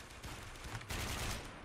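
An AK rifle fired in the shooter game Warmode: a brief, dense burst of rapid automatic gunfire, loud and continuous without pauses.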